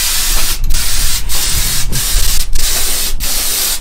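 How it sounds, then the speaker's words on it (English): A compressor-fed spray gun set at about 60 psi hisses in short bursts over a chainsawed wooden cowboy logo, about five loud, close blasts separated by brief pauses and faint mechanical clicks. "So I've got my my compressor set at about 60 pounds, and we'll just see how this sprays."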